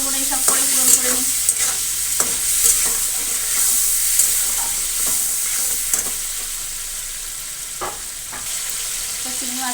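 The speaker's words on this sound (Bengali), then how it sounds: "হলুদ দিয়ে ভাজা ভাজা করে দিয়ে তারপরে জিরে গুঁড়ো দিয়ে দেবো।" Turmeric and cumin powder fry in hot oil, stirred by a spatula: a loud, close, continuous sizzle broken by repeated scraping strokes against the pan.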